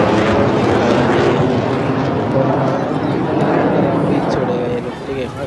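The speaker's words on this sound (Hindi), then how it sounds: "आज मैं चेन्नई मेरिना बीच जो है उसमें बहुत सारा फाइटर जेट आने वाला है इधर" Fighter jets roar overhead in a broad rumble at the 2024 Indian Air Force Day air show over Marina Beach in Chennai, while a person talks over the noise.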